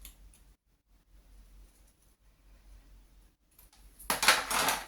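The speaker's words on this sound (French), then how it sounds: "vous allez couper les deux arrondis" Scissors snip through paper to trim two rounded corners for a handmade mini album, quiet faint handling at first, then a louder close rustling cut near the end.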